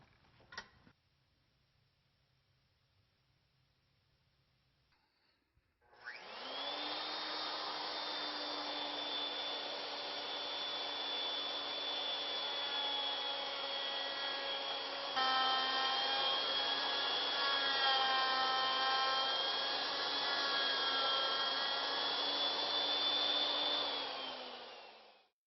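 A milling machine cuts out the inside of a wooden bowl, starting after a few seconds of near silence with a loud, steady whine and a sustained high tonal drone that holds evenly to the end.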